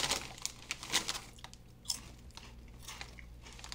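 Speedy Choice habanero potato chips crunched and chewed up close, loud crisp bites in irregular bursts with no talking.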